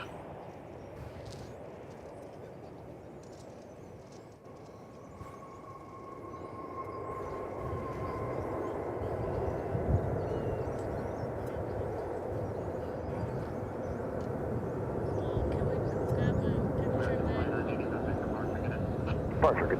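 A jet airliner taking off from runway 18 Left at Dallas/Fort Worth Airport, heard as a broad, steady engine roar that swells louder over about twenty seconds, with a faint tone drifting through the rumble.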